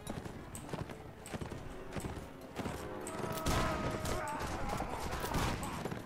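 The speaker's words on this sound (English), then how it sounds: "Cavalry charge!" Cavalry horses gallop in a charge in the Napoleonic-era Mount and Blade Warband game, with steady clip-clop hoofbeats and scattered musket shots growing louder and denser halfway through.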